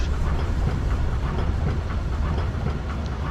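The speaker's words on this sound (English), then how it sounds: "engine number 2 powered up" Engines of an all-metal Ford Tri-Motor powering up in Flight Simulator X, a steady, loud, dense rumbling drone with a fluttering texture that holds for the whole stretch, with no talking.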